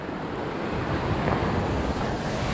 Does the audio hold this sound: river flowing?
yes